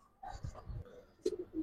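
A genda pigeon chick gives soft, low cooing calls, a few short murmurs followed by a slightly louder burst of coos near the end, all close and fairly quiet with no one talking.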